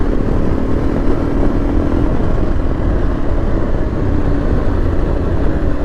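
A 2024 Yezdi Adventure motorcycle engine riding in fourth gear at low speed, a loud continuous rumbling drone with steady low throb and wind noise, no voices.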